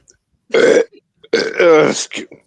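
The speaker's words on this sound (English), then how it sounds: "I'm drinking a matcha latte. It makes me burp." Two loud, close burps after drinking a matcha latte, one short and one longer and drawn out, each separated by brief silence with a faint breath at the end.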